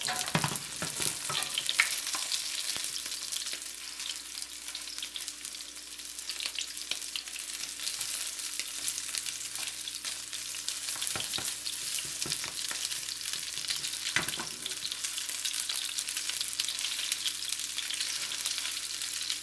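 Lobster pieces and mixed vegetables sizzle and crackle steadily in a hot stir fry pan, a continuous loud frying hiss with occasional stirring scrapes.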